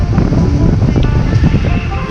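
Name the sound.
strong wind at sea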